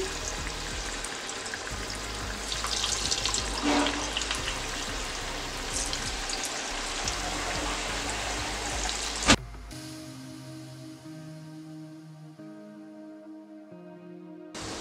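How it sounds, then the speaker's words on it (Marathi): Spoonfuls of moong dal bhaji batter deep-fry in hot oil on a low flame, a loud, dense, continuous crackling sizzle up close for about ten seconds, after which it cuts to music. "तेल तापलेलं आहे, भजी तळून घेऊया। चमच्याने आपल्याला हे थोडे थोडे सोडायचं आहे तेलात।"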